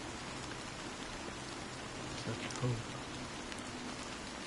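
Steady rain falls in the video game Honkai: Star Rail, a soft continuous hiss under a quiet spoken line of dialogue.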